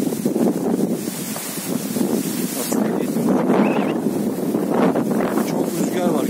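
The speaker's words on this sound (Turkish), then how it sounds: "Ama inanılmaz bir rüzgar var." Strong wind buffets the microphone in loud, continuous rumbling gusts, with rustling underneath throughout.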